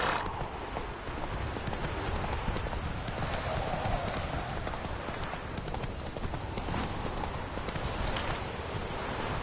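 Roach the horse galloping in The Witcher 3, dense fast hoofbeats close and continuous over a rushing background, with a faint voice underneath.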